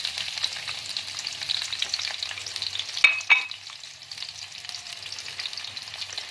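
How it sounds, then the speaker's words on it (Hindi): Onions frying in hot oil in a pan for an aloo matar curry, a steady soft sizzle with light stirring scrapes and a sharper clink midway, close and moderately quiet. "प्याज को हम गोल्डन ब्राउन फ्राई करेंगे।"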